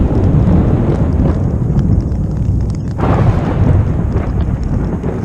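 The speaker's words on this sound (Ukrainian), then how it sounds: "Оце гроза." A loud, continuous low rumbling roar of an approaching thunderstorm heard from a tent while camping in the Balkans, heavy and enveloping, with no voices.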